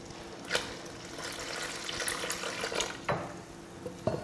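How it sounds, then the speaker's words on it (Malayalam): Milk poured into a pot of jackfruit seed payasam (chakkakkuru pradhaman): a steady, soft liquid rush with a few sharper clinks of utensil against the vessel, close and moderately quiet. "ഞാൻ ഈ അവസരത്തിൽ ഇത് നിർത്തിയിട്ട് 1/2 പാല് ഒഴിക്കാൻ പോവാണ്."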